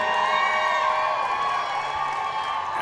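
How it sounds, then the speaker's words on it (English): A powerlifting meet crowd cheers and roars steadily in a large hall, a sustained loud wash of voices with no break. "And the crowd cheers."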